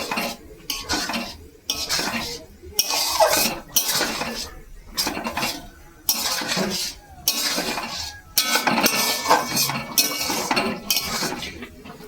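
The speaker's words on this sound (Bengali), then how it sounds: "ভালো করে একটু নেড়ে চেড়ে ফুটিয়ে নেব।" A utensil clinks and scrapes repeatedly against a pan while chowmein gravy with soy sauce is stirred over the heat, the rhythmic metallic knocks coming in short bursts with brief pauses between them and no talking.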